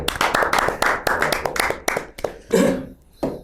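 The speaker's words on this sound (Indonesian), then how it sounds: "Tepuk tangan." A small audience at a disability forum gathering claps in a short burst of distinct, closely spaced hand claps that thin out and stop, with a couple of last claps trailing at the end.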